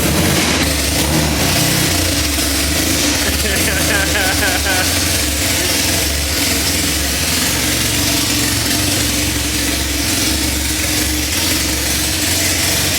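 A Honda Civic AWD engine with a big cam and no exhaust fitted idles and revs up close, loud and raw, with a harsh mechanical rattle and no muffling.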